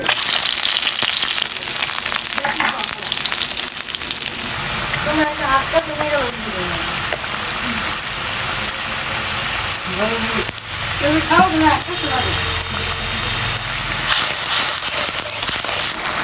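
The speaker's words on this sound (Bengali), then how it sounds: "মাছ ভাজা কড়াইতে আরেকটু তেল দিয়ে দিলাম, দিয়ে দিব পেঁয়াজ কুচি" Loud continuous sizzling of chopped onions frying in hot oil in a fish-frying pan, for rohu fish korma, with a voice speaking intermittently over the crackle.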